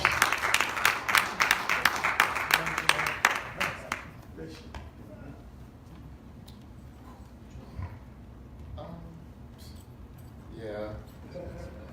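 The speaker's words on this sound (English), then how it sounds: "let's clap our hands for him as he comes" An audience at a Sabbath class claps steadily and loudly for a few seconds, then the applause fades out, leaving quiet room sound with faint scattered noises.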